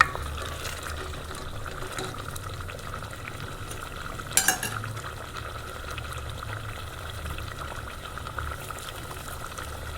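Masala with coriander powder stirred and roasted in a pan for Hyderabadi bagare aloo baingan, a low bubbling sizzle with light spoon scrapes and one sharper clank midway, no speech.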